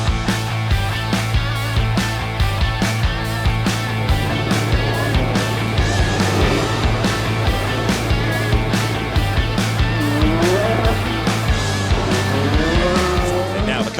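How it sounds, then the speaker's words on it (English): BTCC touring cars at Silverstone in 2021 driving round to the grid, loud engines droning near and steady with repeated rhythmic pulses and rising revs near the end. "Now the cars are making their way round to the grid in readiness of our first 22-lap race."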